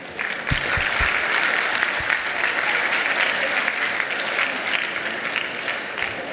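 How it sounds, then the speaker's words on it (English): An audience at an apprenticeship awards ceremony applauds, with dense, sustained clapping that fills the room at a steady loudness and a few sharper claps standing out near the start. "just join in with me as a quick round of applause for Right Honourable Robert Halfon."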